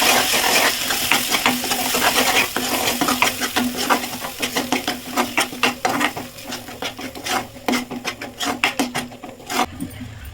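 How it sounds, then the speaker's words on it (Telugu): Tomato-based puree for paneer masala fries loudly in a pan while a spatula scrapes and stirs in quick, irregular strokes, a steady sizzle running underneath throughout. "ప్యూరీని అయితే వేసుకొని పచ్చి స్మెల్ పోయేంత వరకు బాగా ఫ్రై చేసుకోవాలి"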